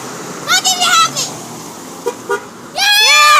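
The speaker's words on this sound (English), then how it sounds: "Honk if you're happy" A street scene where passing cars honk: short horn toots in a bright burst early on and a longer, louder blast at the end, with voices in between.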